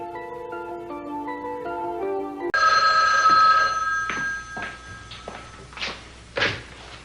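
An old-fashioned telephone bell rings loudly and continuously indoors, then gives way to a few clunks and handling knocks as the receiver is picked up, with music fading out before it.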